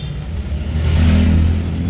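A car engine rumbles low and rises slightly in pitch as the car pulls away, close and steady for a couple of seconds with no talk over it.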